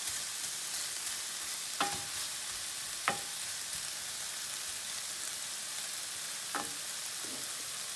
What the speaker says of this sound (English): You're going to let the garlic cook in here.